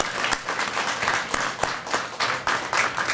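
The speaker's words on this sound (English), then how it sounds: "Let's give those folks a round of applause." Applause from the audience at a library grand opening, a close, steady round of clapping with scattered sharp individual claps, lasting the whole moment with no talk over it.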